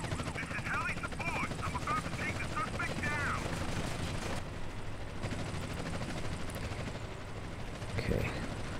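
A modded helicopter machine gun fires in GTA San Andreas. The rapid bursts rattle over a continuous rotor drone, then the guns stop and the helicopter hum carries on alone.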